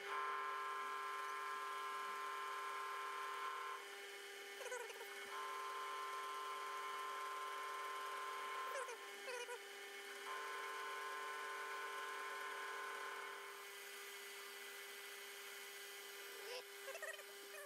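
A metal lathe turns an indicator holder part in an interrupted cut, a steady mechanical hum with faint rhythmic tapping and periodic shifts in tone, running quietly with no talk.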